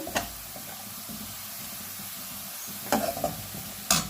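Onion frying in a pan, a steady soft sizzle with occasional scraping stir strokes and clinks of a utensil, fairly close and without voices.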